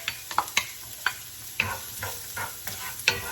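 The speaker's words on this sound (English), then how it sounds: "Okay, so time to add the onions." Onions frying in oil in a pan alongside shrimp, cream and spinach, with a steady low sizzle broken by repeated sharp scrapes and clinks of a spatula stirring, alone without talk.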